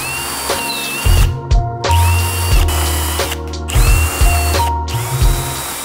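A power tool in a workshop, likely a drill, whirs loudly in repeated bursts, stopping and restarting several times with brief gaps, its motor whine steady between the pauses.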